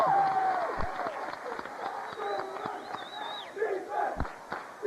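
A high school basketball playoff crowd of Raiders fans yells and cheers in a gym, with scattered shouts, whoops and a couple of sharp thumps, all fairly close and lively.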